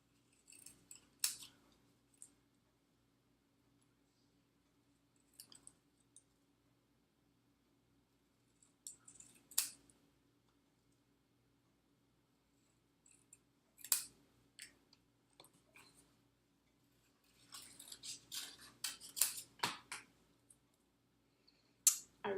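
Scissors fussy cutting around a stamped paper image at a craft table, quiet, close snips in irregular clusters with pauses between, alone without talk.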